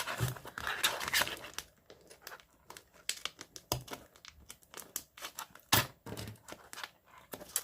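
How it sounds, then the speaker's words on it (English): Scissors snip through paper in a series of quick, crisp cuts with rustling and crinkling between them, close and fairly quiet. "I really need some bigger scissors."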